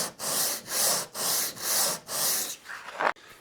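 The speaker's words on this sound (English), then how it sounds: "I've got a bit of sandpaper there, and I'm just going the whole way up the neck." Sandpaper rubbed by hand along the side of a wooden neck on a spalted PRS hollow-body guitar build, five steady back-and-forth strokes in an even rhythm, close and clear, ending with a brief scrape.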